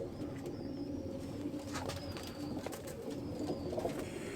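A Lakha pigeon coos softly and repeatedly at close range among other breeder pigeons, its low rolling calls recurring over steady background noise, with no talk.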